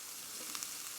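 Carrots hit a hot pan of garlic for a chicken teriyaki stir fry, giving a steady, quiet hiss of sizzling with a couple of faint ticks as the pieces land, alone and without talk.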